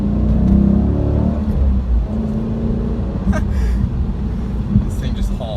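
A stock Dodge Challenger SRT8 accelerating hard through a gear, a loud close low rumbling engine roar with a deep throaty tone that holds steady under load, with brief higher whines near the end.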